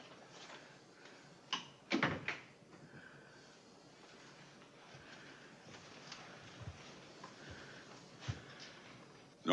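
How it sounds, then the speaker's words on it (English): A door shuts indoors in a classic Western film scene, a pair of sharp knocks and a thump standing out near the start, followed by quieter faint clatter and room noise. "Close the door, Sigurd."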